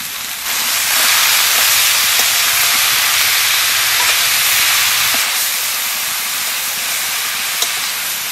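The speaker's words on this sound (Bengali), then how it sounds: "এখানে সর্ষের শাক ভাজি নেব" Mustard greens fry in a hot pan with a loud, continuous hissing sizzle that swells early and then eases slightly. No one talks over it.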